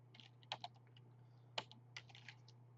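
Typing on a computer keyboard, heard as faint, quick key clicks in small irregular clusters over a steady low electrical hum, with no voices.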